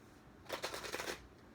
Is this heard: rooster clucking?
no